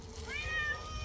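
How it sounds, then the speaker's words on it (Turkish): A black cat gives a single drawn-out meow, fairly close and clear, with a steady low background hum around it. "Kara kedi geldi."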